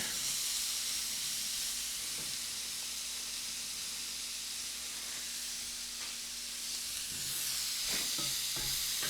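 Bell pepper and shredded matchstick carrots sizzle in a pan of venison stir fry, a steady close hiss of frying with a faint hum beneath and a few clattering stirs toward the end.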